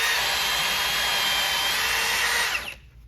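A Milwaukee cordless drill bores a second hole into wood with a sustained loud, close whine that holds steady, then winds down abruptly near the end.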